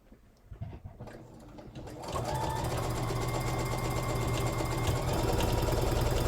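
Sewing machine stitching a thrifted shirt being upsized, starting with a few soft knocks and then running in a loud, steady, rapid mechanical whirring clatter that continues to the end, close up and with no talking.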